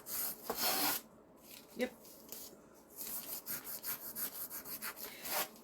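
Sandpaper rasping over painted wood to distress it for a rustic look, with rhythmic scrubbing strokes that speed up toward the end, close by, and a brief voice heard early on.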